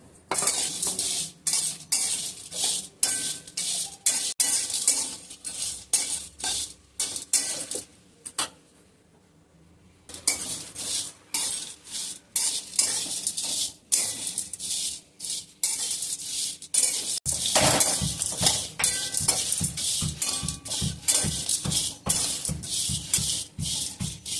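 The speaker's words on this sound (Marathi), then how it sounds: "त्याला आपण मसाला भाजून घेऊयात. बारीक गॅसवरच भाजायचा बरं का मसाला पण." Masala spices being dry roasted over a low flame for goda masala, with a run of quick scraping and clinking strokes from a spatula against the pan. The strokes are steady and close, with a short pause near the middle and a denser rhythm toward the end.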